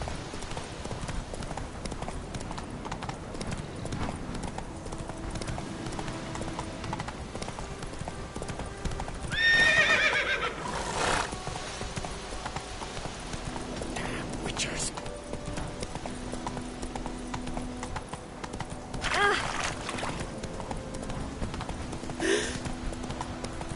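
Roach, Geralt's horse in the video game Witcher 3, clip-clops steadily at a trot throughout, with a couple of brief neighs and occasional voices over the hoofbeats.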